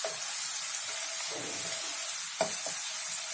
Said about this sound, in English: We want these chilies to fry a bit.